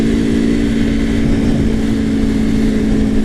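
An Aprilia Tuono Factory motorcycle being ridden, its engine a loud, steady, close drone with a constant pitch and no speech over it.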